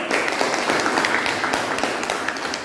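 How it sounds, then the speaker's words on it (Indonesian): Applause from a classroom of students for a presenting group, a steady dense wash of many hands clapping at once, fairly loud and continuous for a few seconds. "Terima kasih buat kelompok 1, kita beri aplaus dulu"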